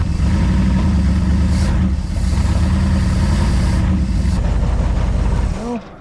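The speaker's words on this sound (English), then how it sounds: "Good running engine, we're not gonna overheat her." A Ford Thunderbird's 390 V8 engine, revived after sitting abandoned for 40 years, runs steadily with a deep, throbbing rumble, loud and close, with no talk over it.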